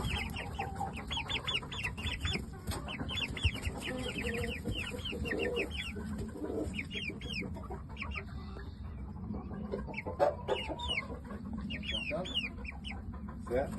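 Shamo chickens, young birds about two months old, cluck and chirp repeatedly in a busy pen, with a steady stream of calls close by and a low background rumble.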